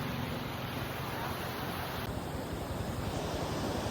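A small river in the Philippines after heavy rain gives a steady, broadband rush of flowing water, continuous and fairly loud throughout, with a hint of wind noise and no talking.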